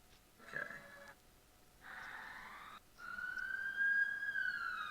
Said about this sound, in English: tell that ambulance to settle down